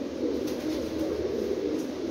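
Pigeons coo in soft, continuous low murmurs, several birds overlapping close by in a steady, throaty drone.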